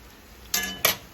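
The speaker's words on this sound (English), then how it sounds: "I'm turning my cornbread too fast" Two quick scraping clatters of a spatula turning fried cornbread patties in a metal frying pan, with a faint sizzle underneath.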